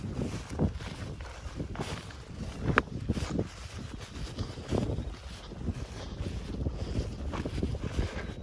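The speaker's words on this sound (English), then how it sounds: "I know that wind's got to be ripping in this video." Strong outdoor wind buffets the microphone in gusty, rumbling bursts that rise and fall throughout, loud and close, with no voices over it.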